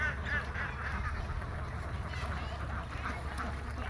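A flock of Khaki Campbell ducks on a pond-side duck farm, six-month-old laying birds, keeps up a steady, dense quacking chatter over a continuous background hum.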